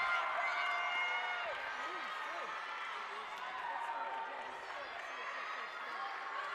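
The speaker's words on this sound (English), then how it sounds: "Big cheer from the squad." A college gymnastics team squad cheering and shouting from the sidelines in a busy arena during a vault at an invitational meet, lively overlapping voices under an announcer's talk.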